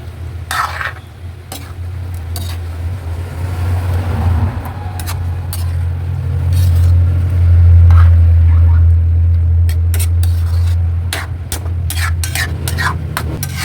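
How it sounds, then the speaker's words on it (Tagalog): A pot of breadfruit simmering in coconut milk with fried round scad added, stirred with a spoon that scrapes and taps against the pot in irregular knocks over a constant low hum. "Atin munang haluin."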